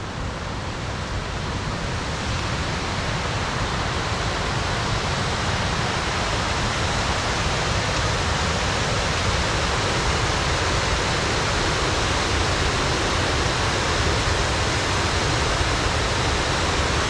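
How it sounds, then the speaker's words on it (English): River rapids or a waterfall roar in a steady, loud, unbroken wash of rushing water that fills the whole stretch evenly, heard up close without any talking. "You can hear the rapids or falls."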